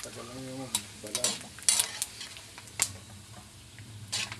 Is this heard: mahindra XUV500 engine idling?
no